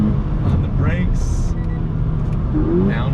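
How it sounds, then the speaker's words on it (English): A 2020 Toyota 86 Hakone Edition on a dusty track downshifts once, then accelerates again, with a loud engine drone inside the cabin and brief rising rev blips. "Downshift one time, back on the throttle."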